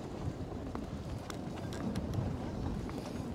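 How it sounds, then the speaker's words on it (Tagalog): Strong wind buffets the microphone at a fishing spot, a steady low roaring rumble with faint knocks and gusts, continuous throughout, no talking. "Lakas ng hangin."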